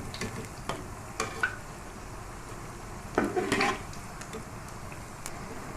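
Chicken pakoras fry in hot oil with a low, steady sizzle, while a utensil scrapes and clinks against the pan in short bursts, including one louder stirring flurry.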